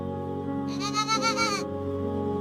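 A single goat bleats once, a quavering, wavering call lasting under a second, clear and close over a steady background drone.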